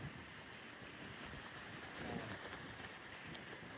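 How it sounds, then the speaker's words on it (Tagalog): Strong wind while flying a kite roars steadily across the microphone in a continuous rushing blast, with a faint watery wash underneath and no talking. "Malakas masyado yung hangin."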